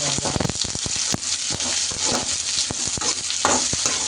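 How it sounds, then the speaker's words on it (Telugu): Dried red chillies, onion and green chillies fry in hot oil in a pan, a steady loud sizzle broken by frequent scraping clicks of a spoon stirring close by. "ఎండుమిర్చి అంటే వేస్తాం అవి వేగినాక ఆనియన్ పచ్చిమిర్చి అయితే వేసుకుంటాం వేసుకొని కలుపుకుందాం"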